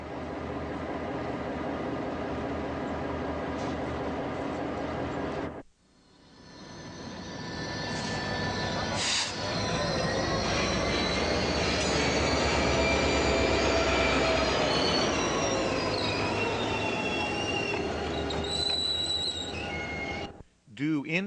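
Second-class passenger train in Mexico arriving on rails, with loud rumbling, clattering wheels and high-pitched squealing. It drops out briefly after a few seconds, then returns for a long stretch of screeching wheels before a sharp cutoff near the end.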